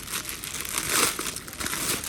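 Someone opens a plastic package in a clothing shop, giving a close, continuous rustling crinkle of plastic with several louder crackles in the middle.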